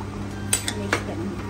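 A spoon scrapes and knocks against a pot while mutton nalli nihari is stirred, with a few sharp metallic clinks over a low steady hum.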